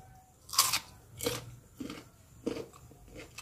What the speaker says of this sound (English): Chew the seeds based on empty stomach.